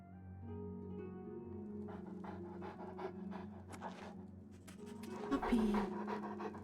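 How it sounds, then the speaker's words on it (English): A dog pants steadily in the video game Oblivion Remastered, a quick rhythmic breathing running throughout under game ambience, with a brief whimpering rise near the end. "Puppy."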